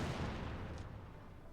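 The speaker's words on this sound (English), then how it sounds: "Katyusha fire there from Fortune." Katyusha rocket artillery fires in the real-time strategy game Company of Heroes 2, a loud rumbling barrage that roars and then fades over a second or so, with no talk.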